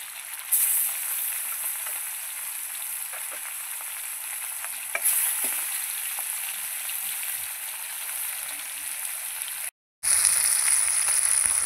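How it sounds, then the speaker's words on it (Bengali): Fish frying in hot oil in a pan, a continuous crackling sizzle close by with occasional small pops, briefly cut to silence before resuming slightly brighter. "এই মাছগুলো আমার ভাজা হয়ে গেছে"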